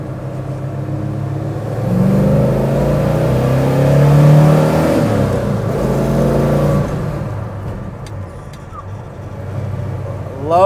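A 1970 Chevy Chevelle SS 454 big-block V8 with a 5-speed revs and pulls strongly, a loud, close, rising engine roar that eases off, with no talk over it.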